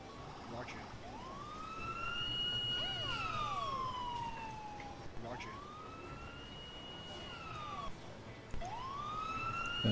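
A police car siren in the Emergency 4 game, a wailing tone sweeping up and down in repeated cycles at moderate volume over a low background rumble.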